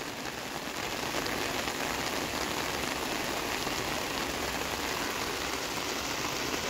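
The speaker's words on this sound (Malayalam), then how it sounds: "മഴേൻ്റെ ഒരു ചെറിയ ബുദ്ധിമുട്ടുണ്ട്" Steady rain falls at an outdoor borewell drilling site, a dense, even hiss of drops with no let-up, fairly close and continuous throughout, with no voices heard.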